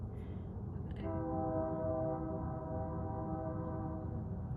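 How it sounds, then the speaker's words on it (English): A train sounds a long, steady horn blast as it passes at a distance, the tone holding over a continuous low rumble of rolling wheels. "the train's made an appearance."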